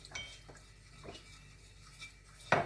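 A sauce of vinegar, water and ketchup is stirred in a pan on a stove over high flame, with soft scraping and clinking of a utensil against the pan and a sharper knock near the end.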